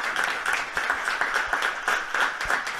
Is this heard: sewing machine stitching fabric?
no